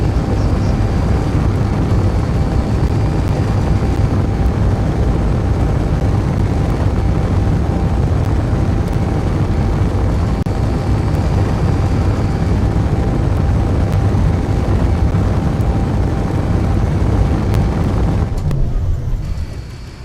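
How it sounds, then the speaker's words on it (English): Missile launch in Space Engineers, a loud, sustained roaring rumble like a rocket motor or huge blast, steady and broad for the whole stretch before cutting off abruptly near the end. "I'd say phase 1 missile test was successful. That's a pretty big fireball."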